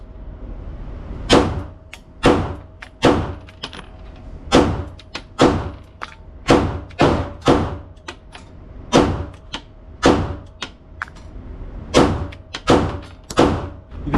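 Suppressed CZ P10-F pistol fired repeatedly at a range, a long series of sharp muffled shots at an uneven pace with brief gaps, close and loud with almost no talk.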